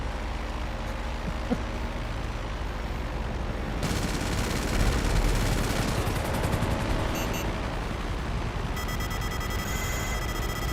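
Missile strike in GTA Online: dense, loud rumble and crackle that flares into a broad burst midway, followed by harsh buzzing tones and electronic beeping.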